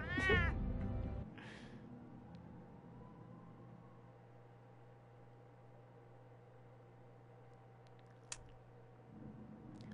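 Cat meowing in a Batman video game: a loud, close wavering meow at the start, a second shorter call, then a quiet background hum with a faint click.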